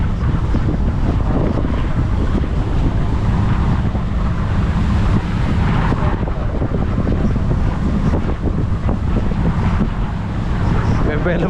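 Big waves roll and churn around a boat at sea, heard as a constant low rumbling wash under heavy wind buffeting the microphone, loud and unbroken throughout.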